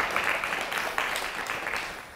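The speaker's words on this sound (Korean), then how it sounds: "귀한 시간 내주신 우리 이준 박사님께 다시 한번 큰 박수 부탁드리겠습니다" Audience applause closing a Korean science lecture in Daegu, a dense steady patter of many hands clapping at moderate volume, filling the moment without voices and fading slightly toward the end.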